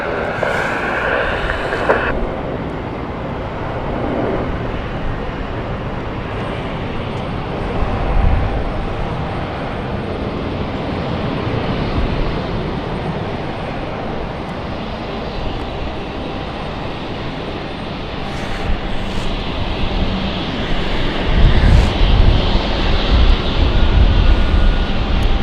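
Swiss airliner lining up on runway 27 at London City, a steady broadband engine roar heard from a distance, constant throughout with a slight swell near the end.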